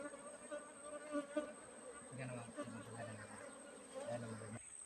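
Bees buzzing around a honey source outdoors, a faint steady drone with wavering pitch at close range, mixed with low hum and background murmur.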